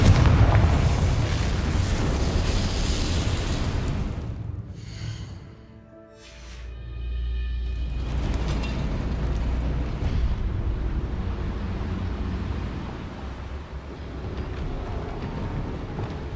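A Confringo spell explosion in the Hogwarts Legacy video game lands as a heavy rumbling boom over dense game noise. The noise dips briefly to a quieter stretch of low drone and tonal effects, then returns to a steady loud rumble.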